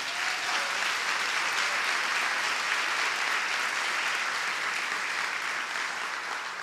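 A church congregation gives steady, dense applause during a sermon about Zacchaeus. The clapping holds at an even level throughout, with no talking over it.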